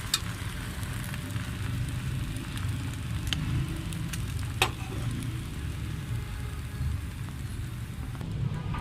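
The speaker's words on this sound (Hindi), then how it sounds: "ऐसे हम फ्राई, ऐसे आपने सारे ब्रेड फ्राई कर लेने हैं।" Slices of sweet bread fry in a pan over low heat, giving a soft, even sizzle that holds steady throughout, with a few faint clicks and knocks.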